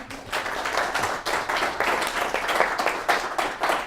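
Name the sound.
audience applause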